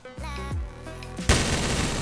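Gunfire in Garry's Mod: after a short rising tonal, voice-like stretch, a loud dense burst of noisy shots erupts and continues steadily to the end.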